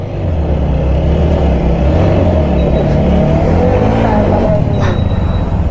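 A loud car engine runs and revs continuously, straining under load during a tug of war between cars, with a steady low rumble and shifting pitch throughout.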